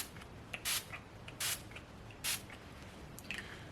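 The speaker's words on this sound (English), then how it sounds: "I'm going to use All Nighter setting spray" All Nighter setting spray hisses in three short, sharp bursts close by, followed by a fainter fourth spritz, with quiet handling sounds between.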